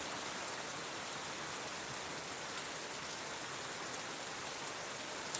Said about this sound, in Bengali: বৃষ্টি আছে